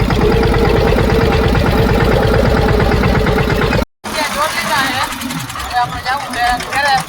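A tractor engine runs loud and close with a steady, rhythmic chugging idle. After a brief cut it becomes rougher and more uneven, with some voices mixed in.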